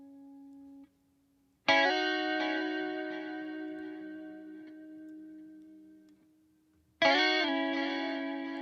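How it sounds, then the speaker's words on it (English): Sustained, ringing guitar chords treated with delay and tape echo, two strummed attacks that each decay slowly with trailing repeats, clean and upfront with no voices. "So you can hear there's delay"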